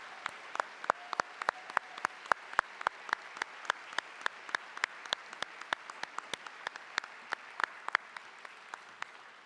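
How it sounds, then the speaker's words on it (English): Honorees at a university employee convocation receive a sparse, slow round of applause, individual claps ringing out sharply in a large hall at a fairly steady pace, soft overall. "Please give them a round of applause."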